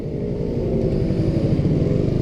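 A Yamaha R15 V3 motorcycle rides through traffic with a steady, close engine drone and rumble that holds an even loudness throughout, with no talking.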